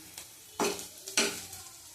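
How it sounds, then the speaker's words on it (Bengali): Sliced potatoes fry in a pan, two loud scraping stirs cutting through a soft, steady sizzle, close and with no voices. "আলু ভাজা বেশ সলা হবে, ঘুটে গেলে ভালো লাগে না খেতে।"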